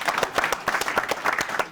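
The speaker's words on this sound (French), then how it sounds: "Applaudissez-le. Applaudissez." A studio audience at a French variety show claps in a brisk, rhythmic burst of applause, fairly loud and close, with no talking over it.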